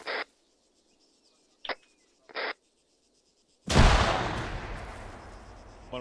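A frag grenade bursts in a military simulation video game, one sudden loud blast with a long rumbling decay, after a few short radio-like blips in near silence.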